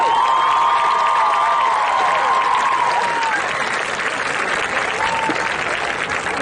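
Stadium crowd applauds wall of fame inductees at a Bacon County high school football game, a steady broad wash of clapping with scattered cheers and whistles across the whole stretch.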